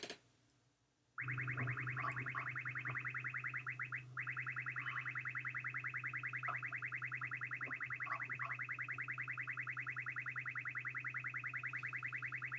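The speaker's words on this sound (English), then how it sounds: "Stop the radar beeping." A car radar detector beeps in a rapid, continuous chirping pattern that starts abruptly after a second of quiet and repeats steadily, loud and close, with faint car-interior noise beneath.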